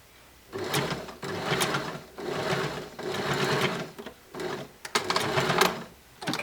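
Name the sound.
sewing machine stitching a garment shoulder seam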